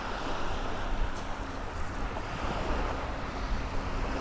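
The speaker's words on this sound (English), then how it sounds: "a little bit of a wavy day to be out on the lake" Wind-driven waves on a lake on a choppy autumn day, a steady broadband wash of water and gusting wind noise throughout with no talking.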